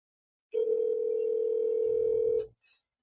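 Phone call placed by Siri, with a steady electronic tone held for about two seconds, clean and close, then a brief low murmur and a faint chirp.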